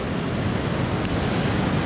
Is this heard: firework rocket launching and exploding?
no